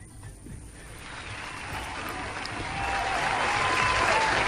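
Studio audience applause on a talk show builds from quiet into steady, even clapping that swells and stays loud to the end, with no voices over it.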